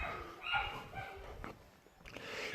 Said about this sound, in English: Sorry if you guys hear my puppy barking too.